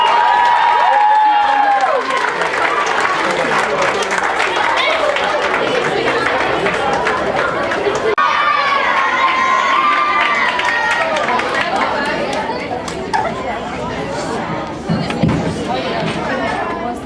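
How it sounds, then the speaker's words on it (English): An award-dinner crowd applauds and cheers for state softball champions, loud and sustained clapping mixed with whoops, chatter and voices rising over the noise. "One more round of applause for the state champions of the year."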